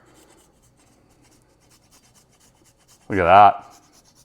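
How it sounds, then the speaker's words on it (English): Fresh Parmesan cheese is grated onto a Detroit-style pizza in a single short rasping burst near the end, after a brief spoken remark and an otherwise quiet stretch. "We're gonna grate a little bit of fresh Parmesan on here."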